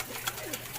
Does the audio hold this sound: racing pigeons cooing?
yes